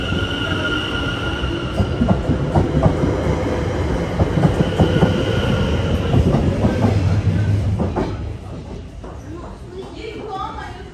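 A train running through London, loud and close with rumbling wheels, rail clatter and a high squeal, under a voice talking; the noise eases near the end.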